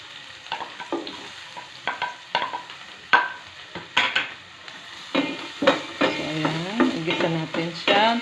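Onions sautéing in a pan for Filipino pork kaldereta: steady close sizzle with repeated scraping and clinking stirs of a utensil against the pan, growing busier and louder toward the end.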